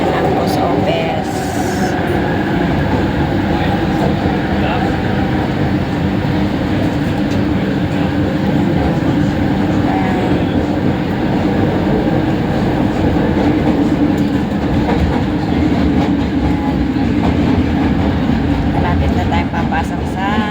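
A train rumbles steadily along the rails as heard from inside a carriage, a loud continuous roar with faint rhythmic clatter and a voice talking over it.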